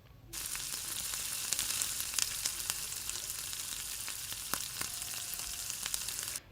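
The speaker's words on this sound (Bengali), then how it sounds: "সমস্ত পেঁয়াজ তেলের মধ্যে দিয়ে পেঁয়াজগুলোকে ফ্রাই করে নেব।" Onions fry in oil over a medium-low gas flame, giving a steady close sizzle with scattered pops and crackles that starts abruptly and runs unbroken for several seconds before stopping.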